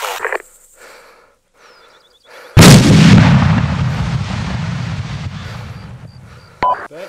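During a mortar training exercise, a single loud, booming mortar shot erupts after a quiet stretch, its blast rolling and slowly fading over several seconds. Faint radio tones and beeps are heard before and after it.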